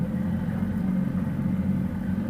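GB4 race car engines rumble and idle together in the paddock at Oulton Park before a race, a loud, steady, continuous low drone with no pauses.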